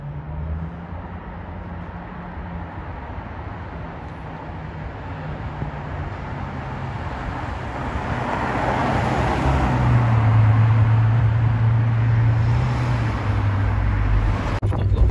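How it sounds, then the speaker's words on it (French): Ferrari 812 Superfast supercar approaching along a Paris street, its engine note rising over steady traffic rumble as it draws nearer and passes, growing louder toward the end. "Regardez ce qui arrive au fond. Ferrari 812 Superfast."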